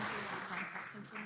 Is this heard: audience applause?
yes